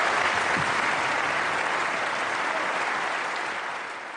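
Sustained applause from a large audience after French Prime Minister Manuel Valls's speech, a loud dense roar of clapping that holds steady, then eases slightly toward the end.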